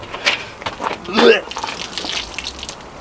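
Water gushing out of a leaking boot of an 8th generation Honda Civic, a brief loud splash lasting about a second, with faint talk before and after.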